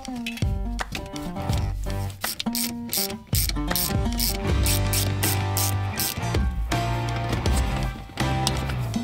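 A hand ratchet bolting the driver's seat of a Land Cruiser to its painted mount, quick bursts of clicking that stop and restart, heard over loud background music.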